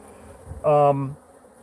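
A single remnant honey bee left behind during a bee removal job buzzes close by in one loud half-second burst, over faint background noise and with no one talking.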